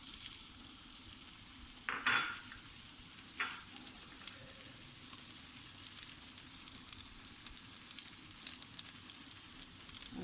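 Onion, garlic and ginger fry in a cup of oil in a kadai, with a steady soft sizzle throughout and a couple of brief louder clatters early on.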